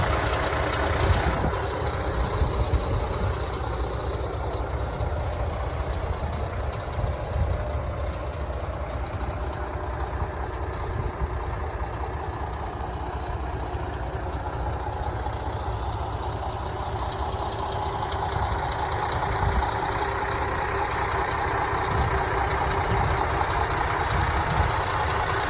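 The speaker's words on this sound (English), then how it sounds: "This has a 13-liter 6-cylinder diesel engine, 400 horsepower." A 2012 International ProStar tandem day cab tractor with a 13-liter six-cylinder 400-horsepower diesel engine idles outdoors, a steady low rumble and hum that holds evenly throughout with no talking.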